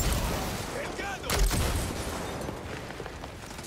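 Scattered gunfire in the Far Cry 6 video game, a few sharp shots and one louder blast amid a busy mix of game sounds, with a voice talking over it.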